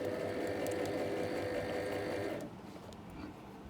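Sewing machine stitching hair wefts runs in a steady, loud whirring buzz for a couple of seconds, then stops abruptly, leaving quieter handling noise.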